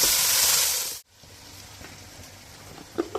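Onion, ginger and garlic paste fry with salt for shahi polao, hissing loudly for about a second before the sound cuts away to a quieter steady sizzle with a few small pops.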